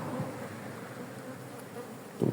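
Honeybees from an aggressive colony preparing to swarm buzz around an open hive, a faint, continuous droning hum with a few louder passes close by near the end.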